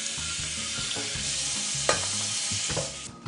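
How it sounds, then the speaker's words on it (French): Snow peas sear briskly in a very hot pan, giving a continuous bright sizzle with the scrape of stirring, alone and without talking. "Ma poêle maintenant est bien chaude et je vais faire saisir très vivement mes haricots mange-tout."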